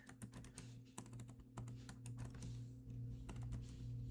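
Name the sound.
typing on a computer keyboard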